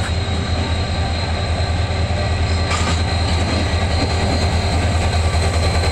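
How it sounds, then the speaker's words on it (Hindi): The Shah Latif Express passenger train runs on the rails from Karachi toward Ranpathani station, a loud, steady rolling roar with rail clatter and a brief metallic squeal midway. "साडा सफ़र हैगा जी Shah Latif express run Pathani railway station तक।"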